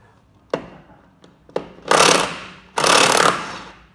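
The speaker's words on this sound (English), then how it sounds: "I always thought air guns were good, and we got a good compressor here." Pneumatic air impact gun on a workshop compressor undoing the wheel nuts of a Smart Fortwo: a few short taps, then two loud bursts of rattling hammering, each lasting about a second, close up.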